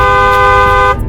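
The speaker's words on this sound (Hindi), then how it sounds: "तभी बस वाले अपने बस का हॉर्न बजाता है" A bus horn in a cartoon blares one long, loud, steady honk that cuts off abruptly near the end, with no talk.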